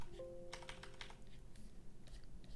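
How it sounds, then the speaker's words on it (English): Keys tapped on a computer keyboard during a Photoshop editing session, a quick cluster of light clicks near the microphone with a few scattered taps afterward, over a low steady room hum. "I hit X on my keyboard to alternate between painting with black and painting with white."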